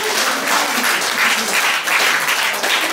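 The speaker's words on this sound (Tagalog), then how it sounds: "Isang malakas na palakpak sa Lord." A congregation at a church service breaks into loud, steady applause, a dense wash of many hands clapping together throughout with no voices over it.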